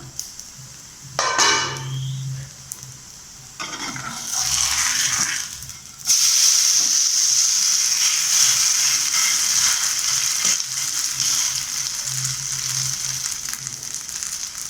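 Rava and vegetable snack frying in oil in a covered pan, sizzling steadily and crackling close by, with louder bursts as more oil is poured over it and no one speaking.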